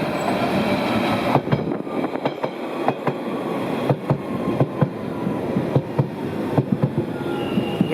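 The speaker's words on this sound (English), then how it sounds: "And that train is coming from Epping" A London Underground Central Line train from Epping arrives at Leytonstone, a loud steady rumble with repeated clickety-clack wheel beats over rail joints and faint wheel squeal, heard close up.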